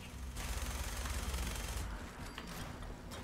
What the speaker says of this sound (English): We gotta shoot this thing.